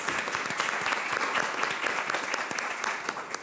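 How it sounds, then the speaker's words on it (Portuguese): An audience applauds a couple celebrating their fifth wedding anniversary on a talk show, dense, steady clapping from many hands, close and sustained throughout with no voices on top. "Um aplauso para eles."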